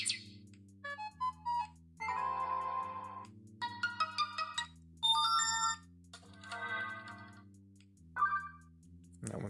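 Several different ringtones on a NUU Mobile G5 smartphone play one after another, each a short melodic electronic tune of chimes and tones, clear and close with brief gaps between them.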